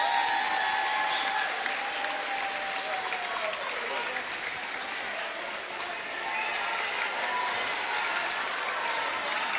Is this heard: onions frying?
no